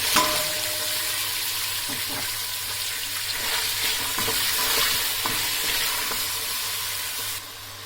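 Onions sautéing in a pan while cooking a dish of dried green beans, a loud continuous sizzle broken by scraping stirs every second or so, easing slightly at the very end.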